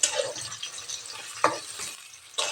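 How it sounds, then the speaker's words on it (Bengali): Onions fry in oil until browning for a kosha chicken curry, a close hiss with uneven stirring scrapes and brief pauses, one sharper clink midway and a renewed burst of sizzle at the close. "বাদামি কালার হওয়া পর্যন্ত আমি এগুলোকে ভেজে নেব।"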